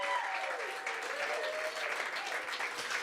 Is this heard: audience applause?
yes